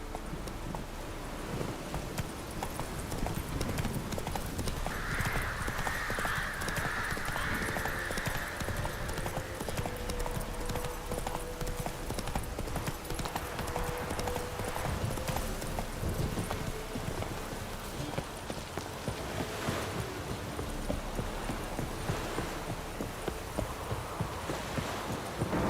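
Horse hooves clip-clopping in an even trotting rhythm in The Witcher 3, loud and close, continuing steadily for the whole stretch, with faint ambient game sounds and a brief snort or whinny.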